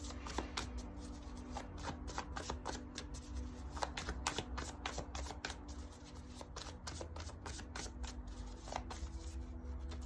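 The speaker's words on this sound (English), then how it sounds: "Okay, let's shuffle." Tarot cards shuffled steadily for about ten seconds, a continuous papery riffle and slap with quick repeated card strikes, close and fairly quiet, no talking.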